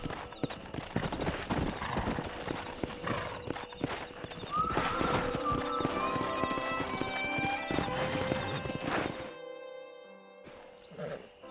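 Rapid clip-clop of galloping hooves with a horse whinnying, steady and loud, ending in a brief quieter stretch, in the video game Red Dead Redemption.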